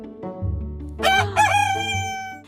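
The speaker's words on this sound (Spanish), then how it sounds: "Es un gallo." A rooster crows a loud, close cock-a-doodle-doo over a sustained low musical backing in a children's animal-sounds song, with no voices.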